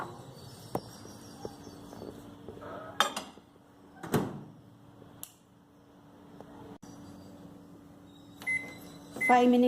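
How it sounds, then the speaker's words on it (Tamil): A microwave oven on high heats carrots and milk for halwa with a low, steady hum, broken by scattered clicks and kitchen clatter and a few beeps near the end. "இதை மைக்ரோ ஹையில் ஒரு 5 மினிட்ஸ் வைக்கணும்."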